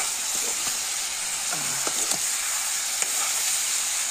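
Coriander being stirred into a cooking dish over a steady sizzle, with soft scraping and clinking strokes of the utensil against the pan in the middle; no talking.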